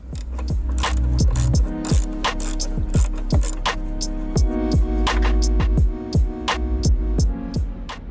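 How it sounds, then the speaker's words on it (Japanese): A 19mm hex socket on a ratchet works loose the negative body-ground bolt of a BMW battery, its rapid clicking pawl rhythm repeating loudly and close over a steady mechanical hum. "マイナス極ボディアース側は 19mm のヘックス、これでボルトを外していきます"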